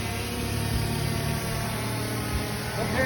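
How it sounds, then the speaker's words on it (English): A motorbike engine drones steadily at moderate distance, a continuous mid-pitched hum with no clear rise or fall, heard alone outdoors alongside a faint buzzing drone. "It's still just a motorbike."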